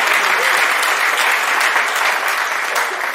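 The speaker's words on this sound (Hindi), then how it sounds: "अगर आप लोग उचित समझते हैं तो एक आध बार तालियां मेरे लिए बजा दें।" An audience applauds a poet at a Hindi comedy poetry recital, the clapping loud, close and continuous for the whole stretch.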